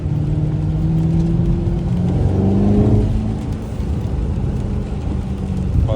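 An American car is driven briskly on a quick lap in Switzerland. Its engine rumbles loudly and close, with the revs rising, then easing into a steady, deep drone.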